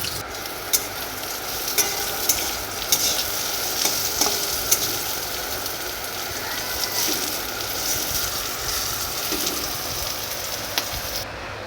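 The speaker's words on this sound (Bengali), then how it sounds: "উচ্ছে ভাজা হয়ে গেছে সমস্ত রকম ভাজা হয়ে গেছে" Bitter gourd frying in a pan for a Bengali village meal gives a steady crackling sizzle throughout, with a few sharp ticks and taps of stirring near the start.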